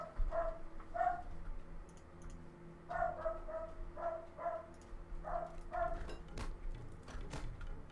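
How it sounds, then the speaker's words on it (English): A dog barks in short bursts at close range, roughly five or six bark groups spread across the clip, with light clicking and background room noise between them. "even though you hear Jersey barking"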